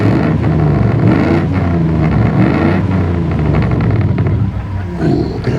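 Daimler 2.5 litre V8 car engine running loud and close at a British classic car show, revving with rising and falling bursts over a steady rumble, alone without talk.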